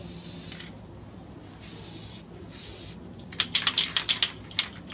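Short hissing bursts from a spray can coating a Mossberg 500A 12 gauge shotgun, three separate sprays followed by a flurry of light clicks and taps, close and fairly quiet.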